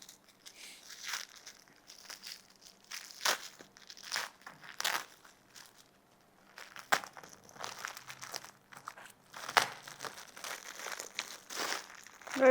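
Packet corner being torn open, with repeated crinkling and crunching of a plastic wrapper in irregular bursts, close and moderately loud, with brief quiet gaps between handling.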